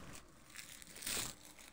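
Empty Kinder chocolate-candy wrappers crinkle as they are stuffed into a bag, a soft rustle that swells into one louder crunching burst before easing off.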